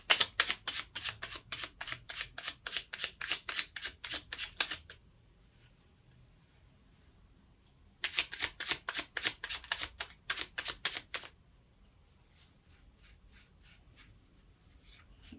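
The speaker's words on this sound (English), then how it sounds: "The cards are flipping" Tarot-style cards flipping and shuffling in two runs of rapid, evenly spaced crisp flicks, each lasting several seconds, close and fairly quiet, separated by a near-silent gap, with no talking.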